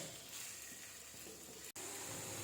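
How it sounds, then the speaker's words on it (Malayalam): Ginger sizzles steadily in hot oil for a dates pickle, a continuous close frying hiss with one brief drop to silence near the end. "ഇഞ്ചി നന്നായിട്ട് വറക്കുന്നതാണ് നല്ലത്"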